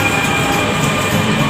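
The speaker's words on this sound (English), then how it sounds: "The train is coming." A metro train rumbles steadily nearby as it arrives at a station, with a continuous low roar and faint rail clatter, no voices over it.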